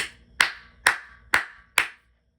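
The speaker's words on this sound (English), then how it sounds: "everyone claps along at the exact same time" Four sharp, evenly spaced claps from an audience clapping in unison along to a song, each a crisp unified burst with a short decay, ending in silence.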